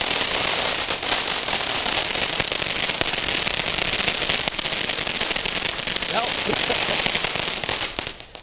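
Fireworks crackle continuously for several seconds, a dense loud stream of rapid firecracker-like pops filling the air at a Fourth of July celebration.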